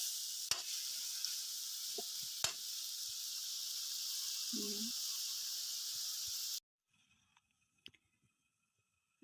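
Bitter gourd and tomatoes sauté in a pan, a steady close sizzle with a few utensil clicks and scrapes, cutting off abruptly to near silence with faint knocks after.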